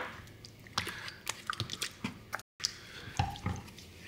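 Water is dabbed onto a sharpening stone before a folding knife is sharpened. Close, soft wet drips and squishy dabs arrive in an uneven scatter, with short quiet gaps between them.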